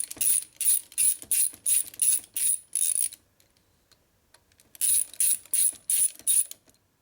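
Hand ratchet tightening the center bolt on a 2001 Indian Scout 88ci big-bore S&S motor, two bursts of rapid, close, crisp clicking strokes separated by a quiet pause.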